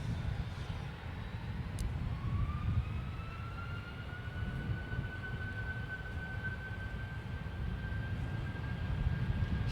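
Distant roar of a Boeing 757 airliner taking off at Manchester Airport, a steady low rumble with a rising whine of jet engines, heard from afar without talk.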